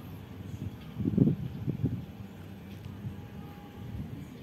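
A low, steady rumble of a train rolling slowly past the entry signal of Yogyakarta station, with a few heavier thumps early on and a faint thin squeal near the end.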